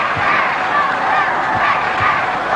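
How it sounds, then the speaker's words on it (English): Tottenham supporters roaring in a packed football stadium during a 1960s West Ham versus Spurs league match, a loud, sustained crowd roar with rising surges of shouting. "This is the Tottenham roar starting."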